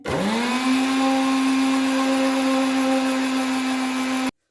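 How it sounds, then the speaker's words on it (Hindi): An electric blender whirs steadily as it blends two eggs, a loud, even motor hum close by that runs for several seconds and then cuts off abruptly. "अब हम अंडे ब्लेंड कर लेते हैं।"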